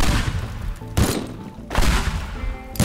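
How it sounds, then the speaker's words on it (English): Pipe bombs detonating in the destruction game Teardown: three loud, sharp blasts in quick succession, each a heavy boom with crackling debris tails, close and punchy. "That was another bomb."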